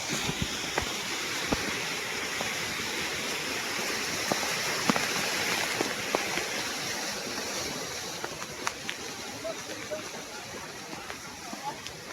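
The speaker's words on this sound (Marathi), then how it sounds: "धबधबा भेटला आपल्याला मस्त आहे की." A waterfall near the Kedareshwar cave on Harishchandragad rushes as a steady, moderately loud hiss, with occasional sharp knocks and clicks from handling nearby.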